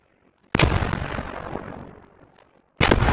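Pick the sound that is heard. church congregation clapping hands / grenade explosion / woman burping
grenade explosion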